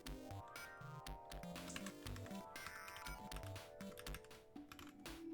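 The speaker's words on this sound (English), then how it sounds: "I like typing both sides of my parentheses" Quick, irregular clicks of fingers typing on a computer keyboard while coding, quiet and close, with a faint tonal hum running underneath.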